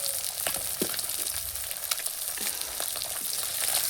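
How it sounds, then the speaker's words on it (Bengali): Fish frying in a pan on a home stove, a dense continuous sizzle with occasional pops and light stirring close by. "আমার মাছগুলো ভাজা হয়ে গেছে"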